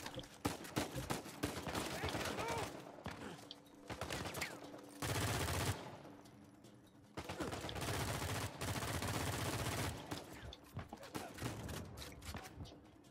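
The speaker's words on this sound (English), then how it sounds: "I'm just shooting the box" Repeated bursts of gunfire aimed at a box in Uncharted 4, loud close volleys broken by short pauses over about thirteen seconds, with brief speech between some bursts.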